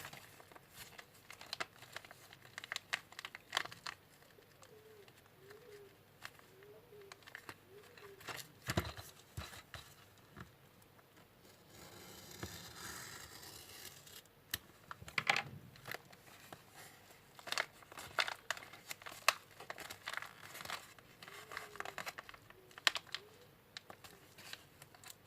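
Plastic AliExpress parcel of electronic components being torn open and handled, quiet crinkling, rustling and tearing with scattered clicks throughout, close and faint.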